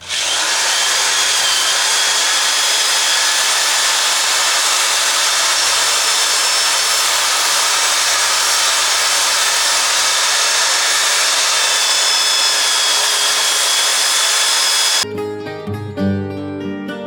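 A lathe spins a 14-inch dry oak platter while 80-grit sandpaper is held to the surface, giving a steady, loud whirring hiss that runs unbroken before cutting off abruptly into a quieter low rumble near the end.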